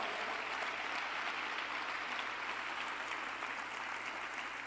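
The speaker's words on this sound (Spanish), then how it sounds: "Dale un aplauso más fuerte" A church congregation at a Sunday school service applauds, a dense, steady wash of clapping from many hands, somewhat distant and filling the hall without a break.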